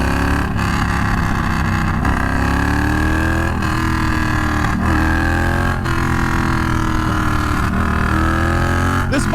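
A Triumph Bonneville Bobber's twin engine revs loudly and close, its throaty roar rising and falling through repeated gear changes and throttle blips while riding.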